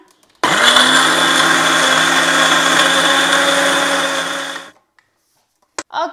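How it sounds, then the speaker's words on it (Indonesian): A loud blender whirs steadily for about four seconds while cooking, then cuts off abruptly, followed by a couple of brief clicks. "saya punya blender nih berisik, jadi tutup telinga teman-teman"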